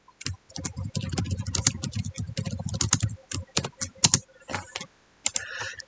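Typing on a computer keyboard during a school informatics programming exercise: a dense run of rapid clicking keystrokes, then sparser separate key taps, close and clear with no voice.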